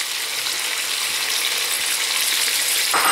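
Chopped onion scattered into a hot pan fries with a steady, loud, bright hiss that holds through the clip, with a fresh crackle near the end as more pieces land.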